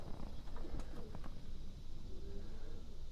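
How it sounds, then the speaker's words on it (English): Racing pigeons being weaned in a wire loft give soft low cooing calls, faint and somewhat distant over a steady background hum. "these are all racing pigeons that I'm weaning"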